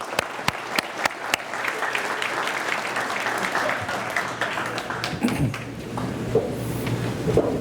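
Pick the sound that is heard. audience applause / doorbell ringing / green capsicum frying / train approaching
audience applause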